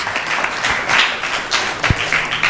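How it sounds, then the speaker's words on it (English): Audience applause for a family at a Shayan arti gathering, a moderate round of claps rising and falling for a couple of seconds with scattered sharper taps. "Please give the family a big round of applause."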